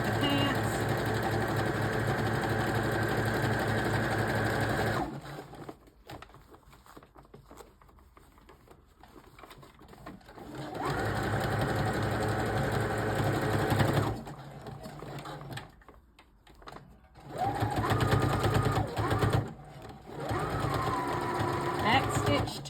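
A domestic sewing machine stitches a shirt onto a pair of pants for adaptive clothing, running in steady whirring bursts separated by pauses and restarts, with a voice talking over parts of it.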